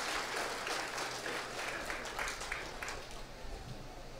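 Steady audience applause at a Tamil comedy speech event, dense continuous clapping that holds throughout and eases slightly toward the end.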